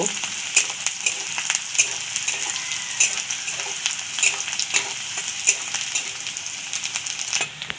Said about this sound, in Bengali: এবার দিয়ে দেবো কুচানো রসুন। এগুলোকে একটু ভেজে নেব।